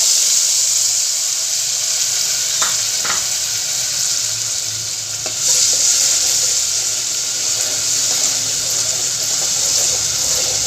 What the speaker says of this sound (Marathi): छान चढ चढले मोहरी लसूण सर्व व्यवस्थित फ्राय झालं आहे